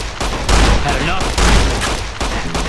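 Gunfire in Fallout: New Vegas, loud and close, with repeated shots and bursts packed tightly across a short stretch of dense game noise.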